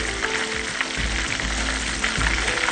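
Fish seasoned with salt and soy sauce fries in a pan with a dense, steady crackling sizzle. It is close and fairly loud, holds an even level throughout and has no talk over it.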